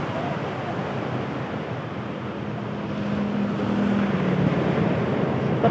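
Surf at the east beach of Pangandaran rolls in as a steady, broad wash of breaking waves, swelling a little louder toward the end, with wind buffeting the microphone and faint voices in the background.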